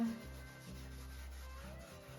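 Steel wool rubs over ivory-toned wooden furniture in slow back-and-forth strokes, a faint, soft scraping with brief pauses between passes.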